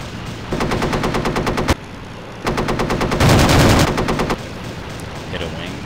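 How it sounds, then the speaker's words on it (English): Rapid bursts of machine gun fire from a P-39Q Airacobra in the Aces High flight combat game, loud and close, in two long strings with a short gap between them. "I might have hit him with the less powerful machine guns there"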